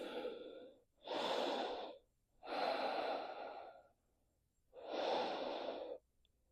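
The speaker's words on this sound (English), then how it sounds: "Inhaling and exhaling." Slow, deep breathing during a yoga session: long audible inhales and exhales in an even rhythm, close and clear, with quiet pauses between each breath and no talking.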